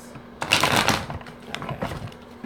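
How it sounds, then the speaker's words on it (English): Tarot cards are shuffled briskly up close, a quick riffling burst followed by a few shorter shuffles and taps. "One last shuffle and then I'll pull the others."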